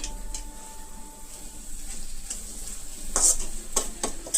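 Egg fry with chili powder stirred in a pan, a soft continuous sizzle under occasional spoon scrapes and a few sharp metallic clinks near the end, close up and free of talk.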